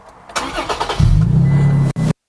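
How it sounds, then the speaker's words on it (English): A 2016-or-later Toyota Tacoma engine cranks briefly and catches, settling into a steady low idle that cuts off abruptly, close and loud with no talking. "let me go ahead and start the vehicle"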